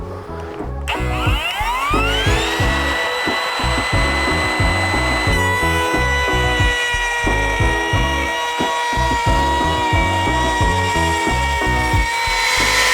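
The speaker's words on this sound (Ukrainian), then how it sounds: "Вмикаємо фрезер." Dnipro-M DCR-200BC cordless router with a fully charged 4 Ah battery running at speed six, a loud steady whine that spins up quickly and then holds a constant pitch, close and continuous.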